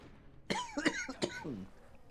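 A few short, harsh coughs mixed with throat clearing from someone with a cold, close and fairly loud, with brief pauses between bursts.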